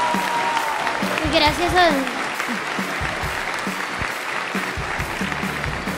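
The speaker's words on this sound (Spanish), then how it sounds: "Un aplauso a William, por favor." Applause for William at a student awards ceremony, steady crowd clapping under a voice, with a brief whistle or cheer early on.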